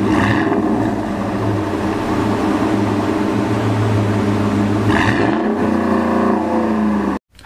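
A 2021 Ford Raptor's 6.2-liter engine roars loud and close, holding a steady deep revving drone with a rising pitch sweep near the end before cutting off abruptly.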